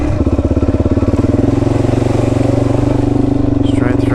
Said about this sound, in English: Just poorly riding a motorcycle.